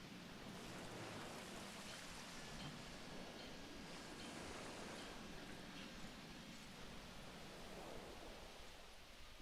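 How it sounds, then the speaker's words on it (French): Rain in the dinosaur park video game Jurassic World Evolution makes a steady, even hiss that runs unbroken and fairly quiet for the whole stretch, with no voices. "C'est juste de la pluie."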